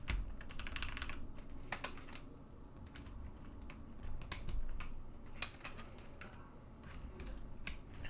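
Rapid keystrokes on a Mode Sonnet mechanical keyboard fitted with tactile switches, a quiet, close clatter of bright clicks in an uneven typing rhythm with occasional louder key hits.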